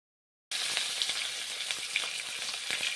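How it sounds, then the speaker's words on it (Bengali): Tilapia frying in hot oil in a kadai for a spicy fish curry gives a steady, close crackling sizzle with small pops, starting abruptly after a brief silence. "মাছ ভাজা এখন ভেজে নিচ্ছি।"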